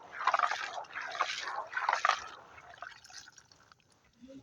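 Peanuts being washed by hand in water, with close splashing and dripping in uneven bursts that fade to quieter trickles, and no talking.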